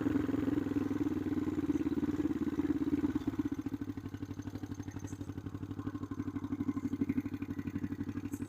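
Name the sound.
motorcycle riding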